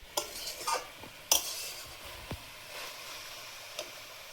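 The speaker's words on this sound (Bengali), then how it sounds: "চচ্চড়িটা একটু আলগা করে নেড়ে দেবো" Stirring chachchori, a Bengali mixed vegetable dish, in a pan, with a few sharp spoon clinks and soft scraping over quiet sizzling, close and intermittent, no voices.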